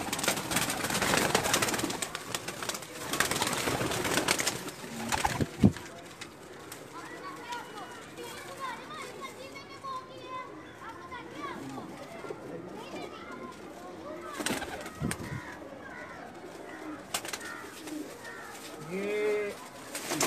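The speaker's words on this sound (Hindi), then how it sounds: "कबूतर तंग हो रहे हैं।" Breeder pigeons coo steadily in a loft, soft repeated coos and rustling under intermittent speech, with a few louder knocks and bursts of noise nearby.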